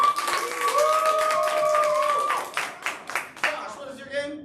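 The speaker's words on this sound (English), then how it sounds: "A round of applause if you want to see." An improv theatre audience claps and cheers to vote for a game, a dense patter of applause with a raised voice or whoop running over it, then thinning into scattered bursts.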